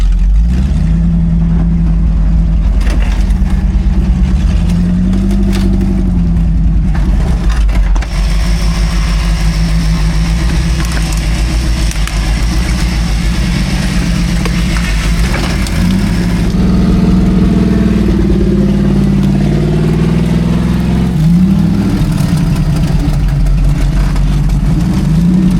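A four-wheel-drive vehicle's engine revs steadily off-road at Rausch Creek, a loud continuous mid-pitched drone that swells and dips in pitch as the throttle is bumped, with no talk.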